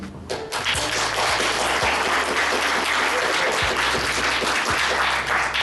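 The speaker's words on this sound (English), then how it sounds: "So I applaud everybody for doing this today." Applause from an audience at a public event on a crime prevention and rehabilitation act, loud and sustained, with dense clapping running throughout and no talk over it.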